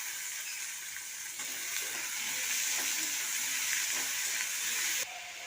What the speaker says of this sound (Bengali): চিংড়ি মাছ আর পেঁয়াজটা একসঙ্গেই ভাজা হয়ে যায়।